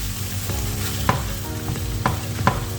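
Vegetables thickened with flour cook in a pan, a low steady sizzle broken by a few sharp spoon scrapes and knocks against the pan.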